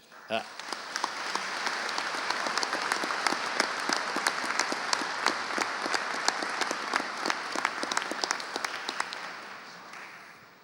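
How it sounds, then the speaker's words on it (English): Steady, sustained audience applause fills a graduation ceremony hall, dense overlapping claps holding at an even level for about ten seconds before tapering at the end. "I'm sure you'd like to give them yet another round of applause"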